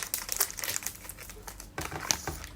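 Plastic wrapping on a Fenerbahçe 2023-2024 football card pack crinkles close up in quick, irregular crackling bursts, with a brief lull midway before a sharper rustle.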